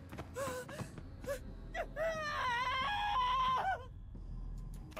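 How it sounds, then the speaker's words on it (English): A character named Sinclair screams in the video game Limbus Company: a few short gasping cries, then a long wavering wail that rises and falls for about two seconds, with some voice in the background. "Sinclair suddenly snapped back to reality and began screaming."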